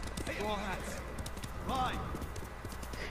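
Horses gallop together in the video game Ghost of Tsushima, their rapid, steady hoofbeats running under excited voices with a brief whinny-like call.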